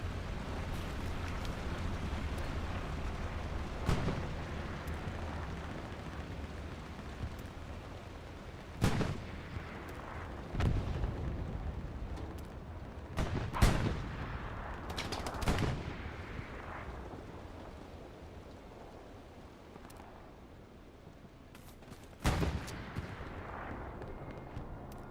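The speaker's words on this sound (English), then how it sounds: "Stuka coming over to the front line." In the Hell Let Loose WWII game, a Stuka dive bomber attacks the front line. Scattered sharp explosions and gunfire cracks go off at irregular intervals over a low battlefield rumble, mostly distant and fairly faint.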